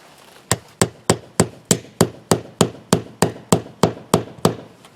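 A hammer drives nails into wood siding during a repair, about sixteen sharp, evenly spaced blows ringing out in a quick steady rhythm, close and loud.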